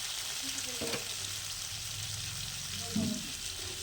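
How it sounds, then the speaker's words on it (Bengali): Potato pieces with added beans and carrots sizzle in a hot pan for a vegetable khichdi, a steady close hiss with light stirring scrapes, with a voice now and then. "আলুটা হালকা ভাজা হতেই একটু বিনস আর গাজর দিয়ে দিলাম"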